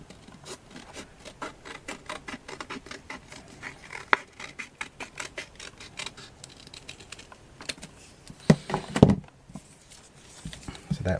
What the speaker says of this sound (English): we are going to cut this heart out